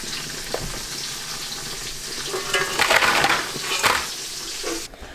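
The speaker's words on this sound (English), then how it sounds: "now we're moving them over to the colander in the sink, where they will be able to be dumped out" Boiled crawdads and their water pour into a colander in a kitchen sink, a rushing splash that swells and fades over a few seconds, with a faint clatter of shells and no speech.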